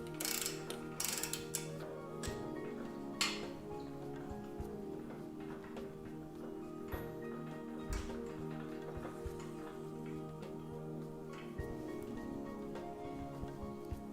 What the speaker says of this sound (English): I'm going to torque it down to 11 foot-pounds or 132 inch-pounds